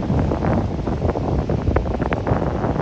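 Wind gusting across the beach at Koh Larn island near Pattaya, Thailand, a steady broadband rush with fluctuating gusts that stays loud and close throughout, with no talk.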